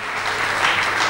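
Dense, continuous clapping from a worshipping church congregation fills a short stretch, loud and steady throughout with no break.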